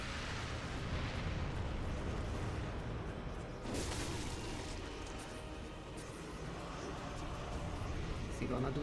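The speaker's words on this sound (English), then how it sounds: "Explosion!" An explosion in the video game Bloodborne: a loud, sustained rumbling blast with a sharp burst near the middle, filling the whole stretch.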